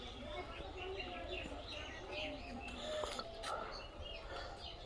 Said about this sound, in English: I throw the nuts over here, and already the bird came.